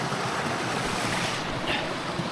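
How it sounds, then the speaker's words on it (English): A small waterfall pours over icy rocks in the Lake District, making a dense, steady broadband rush with no breaks, close and fairly loud. "As you can see, I've got this little waterfall here"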